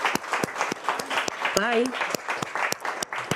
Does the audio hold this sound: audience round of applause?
yes